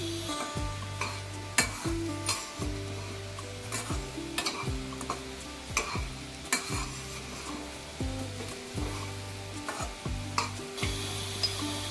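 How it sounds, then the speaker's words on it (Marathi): Jaggery stirred in a pan as it melts for a coconut karanji filling, a steady sizzle broken by repeated scraping stirs in a regular rhythm, close and fairly loud with no talking. "आणि आता आपण यामध्ये गूळ टाकणार आहोत। आणि गूळ विरघळेपर्यंत आपण ठेवणार आहोत।"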